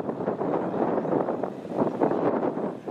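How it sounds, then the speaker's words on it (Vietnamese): Strong wind gusting over an open flooded field in An Giang during the flood season, a rough buffeting roar against the microphone that surges and eases in uneven waves. "quá gió các bạn."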